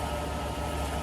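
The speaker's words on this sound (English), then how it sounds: "what you hear there is a standard EPS noise, basically just the ball nut noise providing assist." Electric power steering assist whine from the ball nut on a 2011 GMC Yukon Hybrid with a new motor fitted, engine running; a steady, continuous broadband drone and hum heard up close, with no talking.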